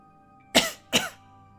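Two quick, close coughs from a man, a brief pause between them, alone against a quiet background.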